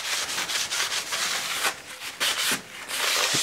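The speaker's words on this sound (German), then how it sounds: "Jetzt schrauben wir, natürlich nochmal mit einem sauberen Tuch alles abwischen." A clean cloth rubs and wipes around the bed knife of a Swardman Electra reel mower, making steady close scrubbing strokes with brief pauses between passes.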